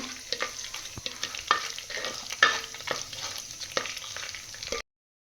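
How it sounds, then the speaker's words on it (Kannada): Whole cardamom, cinnamon and fennel fry in a pot for mutton biryani, with repeated scraping stirs over a soft crackling sizzle, close and clear, before the sound cuts off abruptly. "ಯಾಲಕ್ಕಿ, ಚಕ್ಕೆ, ಸೋಂಪು ಫ್ರೈ ಮಾಡಿ"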